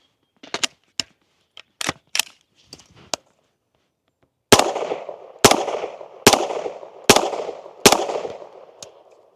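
Springfield Kuna firearm fired in a string of sharp, loud reports: several lighter scattered cracks first, then five evenly spaced heavy shots with ringing tails, no voices present.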